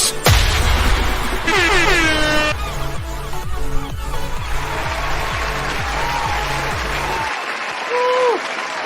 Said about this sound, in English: I got that little air horn sound in there